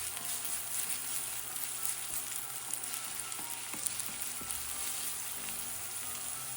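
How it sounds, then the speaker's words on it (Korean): Onions stir-fry in avocado oil in a pan, a steady close sizzle with faint scraping and stirring clicks running throughout, no voices. "투명해질 때까지 볶아주세요."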